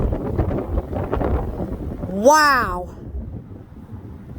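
Strong gusty wind buffets an outdoor microphone in a steady rumbling roar, with a short exclaimed voice cutting in midway.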